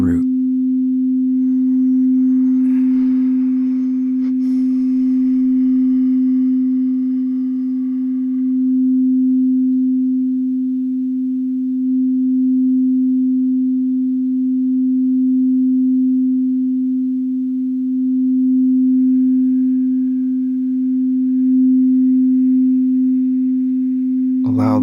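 A steady, pure sine tone for the root chakra holds at one low pitch for the whole stretch, loud and unbroken, with faint background rustle near the start.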